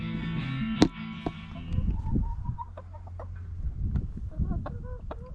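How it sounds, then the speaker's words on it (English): A chicken clucks close by in a series of short, irregular clucks over a low background rumble, with one sharp knock near the start. "The mystery chicken, back on camera."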